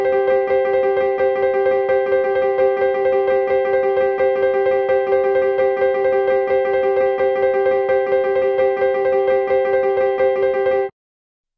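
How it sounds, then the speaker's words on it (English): Two interlocking pulse streams, thirteen against seventeen, tick together in a dense, steady polyrhythm over a sustained harmonic tone, continuous and even for about eleven seconds before stopping abruptly. "13 against 17 sounds like this."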